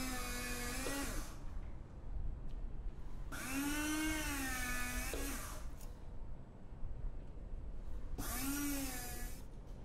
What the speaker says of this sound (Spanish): Laminamos el roast beef ya frío con el cortafiambres.